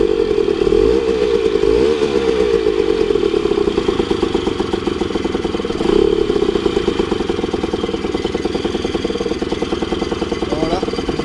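A small scooter engine fires back up after its stuck choke is freed, then runs loud and close with a steady clattering drone and a couple of brief rev swells, with no talking over it.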